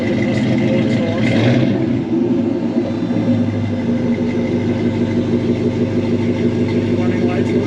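A 1969 Chevrolet C10's 5.3-liter LS V8 with custom exhaust revs deep and rumbling near the start, then settles into a steady throaty idle that runs loud and continuous throughout.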